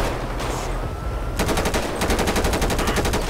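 Rapid automatic gunfire as police shoot a suspect in GTA 5 starts partway in and then continues as a loud, fast, evenly spaced rattle of shots over low background noise.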